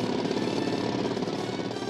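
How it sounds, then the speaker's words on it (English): A cartoon jackhammer hammers away in a continuous rapid rattling pound, loud and close, steady throughout with no speech over it. "This is a jackhammer."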